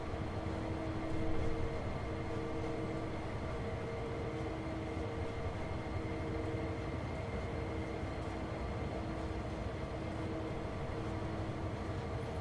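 A simulated train runs in Train Sim World 2, its steady rolling rumble and humming engine tones carrying on evenly and close, with a brief louder thump early on and no voices.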